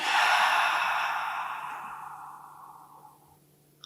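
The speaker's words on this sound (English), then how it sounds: "Last one, breath in and out." A long, deep exhale during a guided pregnancy yoga breathing exercise, a soft breathy rush that starts full and slowly fades over a few seconds, alone and close.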